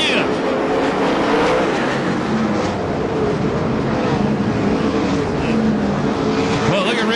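USAC/CRA sprint cars race again after a restart at Perris, California in 2004, a loud, continuous pack of engines roaring and whining past, with a voice talking over the din.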